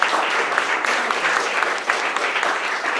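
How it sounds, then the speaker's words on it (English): Steady crowd applause at a film festival event, honoring the festival volunteers, with dense continuous clapping at even loudness throughout and no one speaking over it. "give a big round of applause to all of the volunteers"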